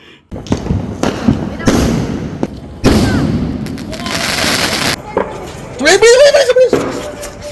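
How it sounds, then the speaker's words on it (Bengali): Fireworks and firecrackers go off for Diwali and Kali Puja, sharp bangs and crackling bursts one after another, one with a rising whistle, close and loud, with people talking in between. "বাড়ির সকলে মিলে চলে এসেছিলাম বাজি পোড়াতে"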